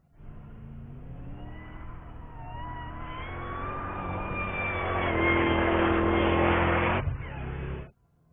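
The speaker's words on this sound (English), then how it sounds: "There is nothing more visceral than the noise this car makes" A Shelby GT500 Super Snake engine revs hard and rises in pitch as it accelerates, growing louder, then cuts off abruptly.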